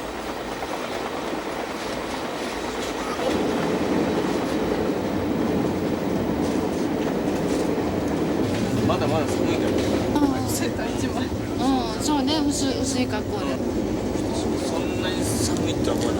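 Passenger train crossing Canada through the Rockies, a steady rolling rumble of the cars that grows louder after a few seconds, with faint voices and brief squeals mixed in.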